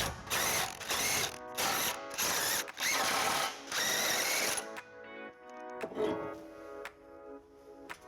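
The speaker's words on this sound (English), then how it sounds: "we will be removing 4 bolts, 2 on the top and 2 on the bottom," A ratchet with a 14mm socket removes the bumper bolts on a 2011-2019 Subaru Outback, a run of loud, rapid clicking bursts followed by quieter, sparser clicks and clanks.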